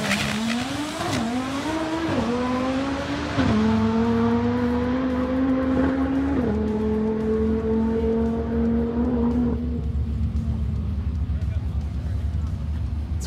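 An Audi TTRS race car drives past, its engine pitch climbing through several gear changes before fading, with tire noise and people talking underneath.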